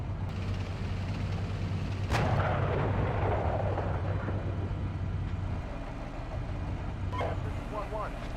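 Gunfire and artillery thunder through a Steel Beasts Pro PE combat scene, with a sharp loud blast near two seconds over a steady engine-like rumble, while radio voices talk throughout.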